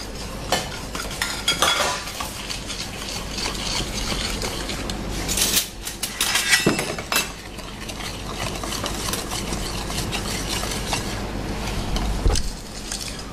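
Cornet batter for Cornets de Murat being mixed with flour in a bowl, a steady run of scraping, tapping utensil strokes against the bowl, fairly close and without speech.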